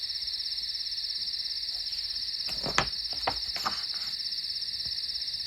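A steady, high cricket trill runs throughout as a storybook sound effect, with a few brief soft knocks and rustles passing over it midway.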